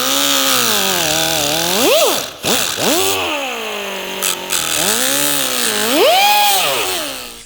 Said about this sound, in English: I'm just going to go after these with a grind wheel.